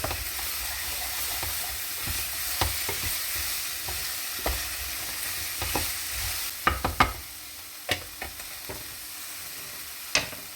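Okra curry fries and is stirred in a pan with garlic cloves, giving a continuous sizzle broken by sharp clanks and scrapes of the spatula, louder toward the end, with no talking.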